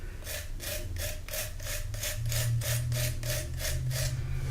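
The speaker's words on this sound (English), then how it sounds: "Go ahead and vigorously score that whole area, even a little bit more than you need." A tool vigorously scores the clay surface of a slab cup, a regular back-and-forth rasping scrape repeating about three times per second, close and alone.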